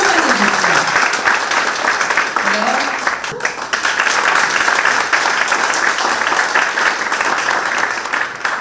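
Loud, dense applause from an audience at a Daegu special economic opportunity zone forum at the National Assembly, welcoming the floor leader. Steady, close clapping fills the whole stretch without letting up.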